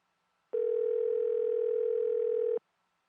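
One steady electronic telephone tone from an unanswered call, lasting about two seconds on its own against silence.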